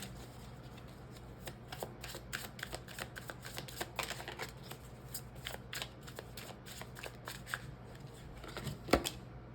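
Tarot cards being shuffled and laid out by hand, a steady run of soft riffling flicks and snaps with one sharper slap near the end, close and fairly quiet.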